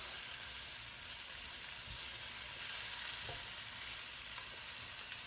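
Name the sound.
stirring spinach and tomatoes in a hash pan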